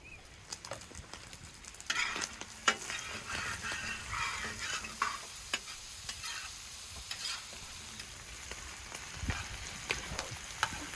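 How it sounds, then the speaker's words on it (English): Lamb and onions sizzle and fry in a pan, with a spoon stirring and scraping now and then; a steady, quiet crackle with no voices. "We'll let the meat and onions hang out for a bit, roasting until they're nice and crispy on the edges."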